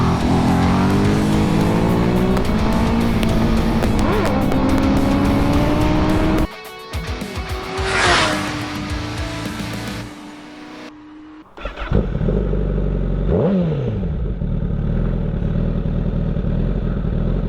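Honda CBR1000RR and BMW S1000RR sport bikes ride mountain twisties near Lake Lure, loud engines revving hard and climbing through the gears, then shifting and backing off before another strong pull, with wind rush throughout.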